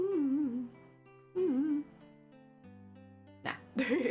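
Two sharp, close sneezes burst out near the end of an indoor stretch, following a person's tonal, voiced sounds.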